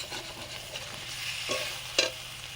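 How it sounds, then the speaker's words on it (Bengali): Potatoes and eggs fry in spiced masala, giving a soft continuous sizzle with two sharper stirring scrapes near the end, close and without speech. "মশলা কষানোর পরে আলু আর ডিম দিয়ে দিলাম"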